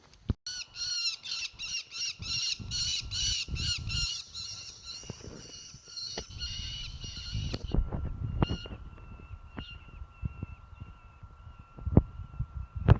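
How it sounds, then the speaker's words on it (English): A hawk or falcon calling on a hot day along the Appalachian Trail, a rapid series of harsh, squawking cries at first, then a few scattered sharper calls against quiet outdoor background noise. "A hawk of some sort? Falcon?"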